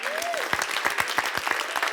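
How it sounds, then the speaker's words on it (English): A crowd claps steadily, with dense, sustained applause and a brief whistle near the start. "Let's give them a round of applause."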